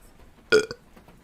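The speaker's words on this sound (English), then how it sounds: "Hedge belched." A single short, throaty belch bursts out once against near silence, with a small trailing gulp just after.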